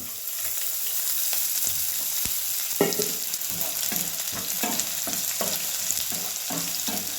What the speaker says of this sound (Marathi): छान कांदा भाजूया ह्यात होतंय बघा आता तेल